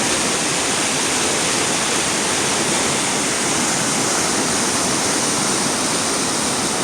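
Class 5/6 whitewater rapids roar without pause, a dense, loud, unbroken rush of churning water.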